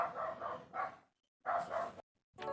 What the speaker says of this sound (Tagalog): pagpasensyahan na kasi maingay yung aso ng kapitbahay namin